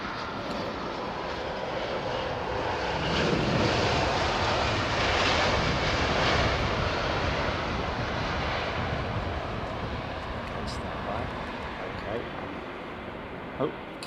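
An Emirates Airbus A380 touches down at London Heathrow, its broad engine roar swelling and then slowly fading, with voices talking over it.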